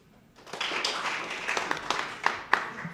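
A group at a county freeholders ceremony honoring the Nutley High School Raiders Marching Band claps loosely, with scattered, uneven claps that never land together, ending in a couple of sharper separate claps.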